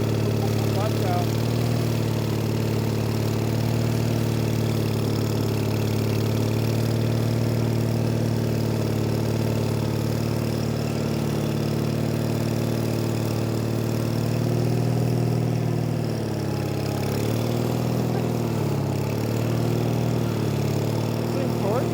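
An old Case trencher's engine runs close by at a steady, rumbling idle with a strong low drone. The pitch dips and wavers briefly near the end.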